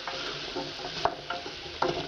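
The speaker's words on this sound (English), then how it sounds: "And then just stir it up." Spices stirred into a pot of curry turkey soup, with soft scraping and sizzling plus a few sharper spoon knocks against the pot, close and alone.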